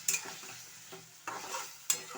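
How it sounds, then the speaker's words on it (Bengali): Cauliflower and potato are stir-fried in a pan, with a light sizzle under repeated spatula scrapes and knocks against the metal, several distinct strokes, close and fairly quiet, no speech. "এইবার আমি কপিটা, আলুটা ছেড়ে দিলাম, এবার এটাকে কষাতে থাকবো।"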